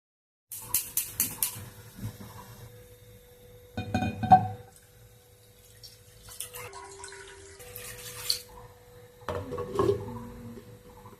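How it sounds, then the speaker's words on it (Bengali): Potatoes washed by hand in water for a Bengali pea ghugni recipe, with several short splashing and sloshing bursts separated by quieter dripping and trickling. "একইভাবে আলুগুলো এভাবে ধুয়ে নেব"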